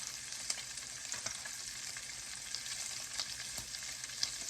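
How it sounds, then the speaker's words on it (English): Salmon croquettes made with egg frying in a hot pan, a steady bright sizzle with small pops and crackles throughout, soft and close with nobody speaking. "I'm not going to let these salmon croquettes cook too fast"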